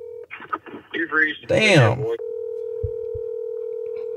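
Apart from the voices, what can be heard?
phone dialing tones via voice assistant call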